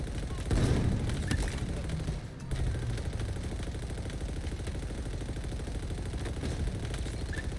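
Sustained turret machine-gun fire in Titanfall 2 Frontier Defense, a dense continuous stream of rapid shots over rumbling battle noise, loud and unbroken except for a brief dip near the start.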